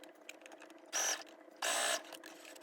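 A sewing machine stitching seams in bedsheet fabric: two short, buzzing mechanical runs, each under a second, close and fairly quiet, separated by faint handling clicks.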